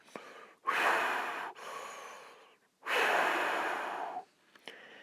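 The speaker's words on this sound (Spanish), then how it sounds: "cuando cierran sus labios hacen una respiración un poco más marcada" Pursed-lip breathing sound effect: two long, loud breathy exhalations forced through narrowed lips, each lasting about a second or more with a short pause between, plus a few brief softer puffs at the start and end, heard alone without talk.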